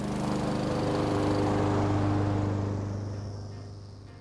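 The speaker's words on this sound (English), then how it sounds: "how to operate your HRR216VYA lawnmower" A Honda HRR216VYA walk-behind lawn mower engine runs with a steady, close droning hum that swells slightly and then eases off toward the end, with no talking over it.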